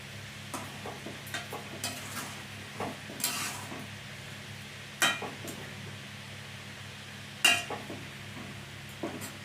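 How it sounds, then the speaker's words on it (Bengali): Sugar being stirred into a tamarind fish curry in a pan brings a close run of spoon scrapes and taps against the metal, a few sharper clanks standing out over a faint simmering sizzle, with no voices. "ভালো করে চিনিটা নাড়িয়ে দিলাম"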